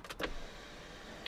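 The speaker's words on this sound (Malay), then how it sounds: "sunroof dia pun masih berfungsi dengan baik korang" A Volvo XC90 sunroof motor runs with a low, steady electric whir, and brief clicks and small knocks come at the start and near the end of the short, fairly quiet sound inside the car.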